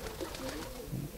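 Soft, low pigeon coos rise and fall close by over a faint background hum.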